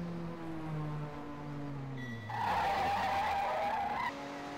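A touring race car in a WTCC championship round at Hockenheim skids off into the gravel trap: an engine note winds down, then a loud rushing scrape of tires over gravel lasts about two seconds before fading.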